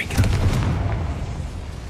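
A Confringo fire spell bursts in the Hogwarts Legacy video game, a deep booming blast at the start that rolls off into a low rumbling tail over about two seconds.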